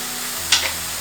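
Onions gently stir-fried in oil in a pan, a steady close sizzle with a single short scrape of a spatula partway through.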